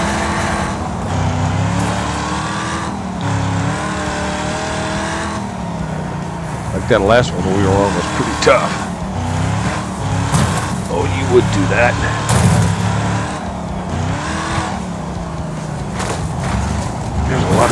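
Cars racing and crashing in the video game Wreckfest: steady loud engine drone with revving and passing cars, punctuated by several sharp crash impacts, under continuous talk.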